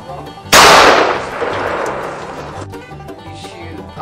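A single loud, close blast from a 12 gauge shotgun fired at cans outdoors, a sharp crack followed by a long fading boom and echo over about two seconds.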